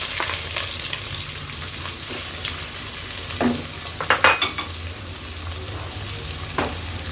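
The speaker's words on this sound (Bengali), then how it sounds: "রান্নার জন্য এখন আমি প্রথমে পেঁয়াজগুলোকে তেলে ছেড়ে দেব।" Onions sizzling in hot oil, a continuous bright frying hiss with a few louder crackles and spatters midway, close up with no talking.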